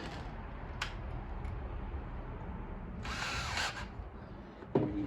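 Power screwdriver driving cabinet screws while building a beater bar, a few short separate bursts with the loudest run near the middle and a brief final whir, heard over steady background noise.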